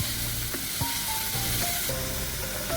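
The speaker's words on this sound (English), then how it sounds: "We will saute our onions, garlic and ginger for 2 minutes." Onions, garlic and ginger sauté in olive oil, a steady close sizzle with faint stirring and scraping layered over it.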